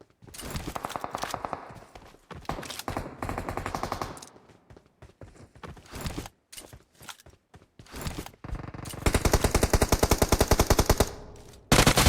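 Automatic gunfire in a shooter video game, loud and close, with rapid rattling bursts broken by short pauses and quieter gaps. It ends in a long, sustained volley.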